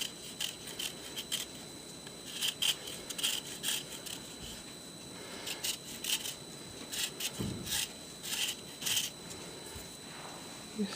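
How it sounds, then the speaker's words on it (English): A metal grater scraped over a whole lemon, a run of short, dry rasping strokes in uneven bursts, close and fairly quiet, with no talking. "what I do, is run the grater over it"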